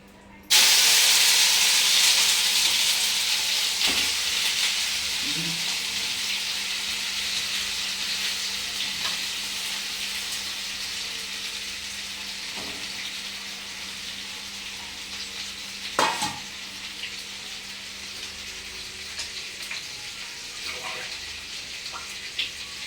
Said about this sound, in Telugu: ఇక్కడ తాలింపు పెట్టేసిందండి.